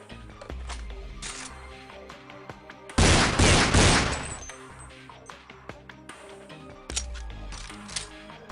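A machine gun in Counter-Strike 1.6 fires sharp rapid bursts, with one loud sustained volley in the middle and scattered clicks and mechanical weapon noises around it.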